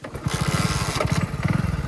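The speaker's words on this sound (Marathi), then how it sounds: "फायनली बाईक स्टार्ट व्हायची" A motorcycle engine catches and runs after being kick-started on a village farm road, its rapid, steady exhaust pulses loud and close throughout.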